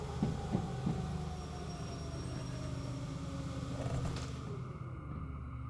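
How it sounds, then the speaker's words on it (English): Moving train in the rail simulator Derail Valley: a steady low rumble of a locomotive with rolling wheel noise and faint squeals, continuous and moderately close, easing off slightly near the end. "At least the train's still moving."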